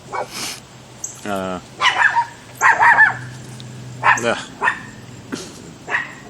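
Several sharp dog barks and yips come in short bursts, close by, mixed with talking voices.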